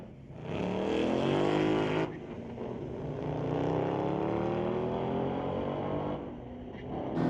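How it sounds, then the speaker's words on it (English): A Dodge Charger and a Mustang drag racing side by side at Mission Raceway Park, a loud sustained engine roar with rising gear-pull harmonics, a brief dip mid-run and a new burst of revving near the end. "Bring up the race with Doug Charger, squaring off against the Mustang on the far side."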